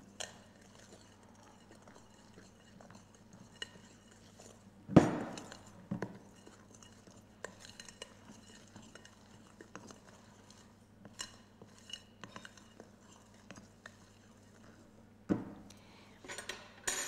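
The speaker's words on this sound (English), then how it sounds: "Now add the beaten egg white. And fold that in." Beaten egg white being folded into Swiss roll cake batter in a bowl, heard as quiet scraping and a few utensil clinks against the bowl, mostly faint with occasional sharper knocks and no talking.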